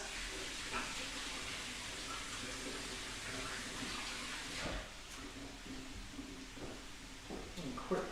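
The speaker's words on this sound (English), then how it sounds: "Again, let's wash our hands." Tap water runs steadily into a sink while hands are washed beneath it, a continuous close splashing hiss with a few small knocks near the end.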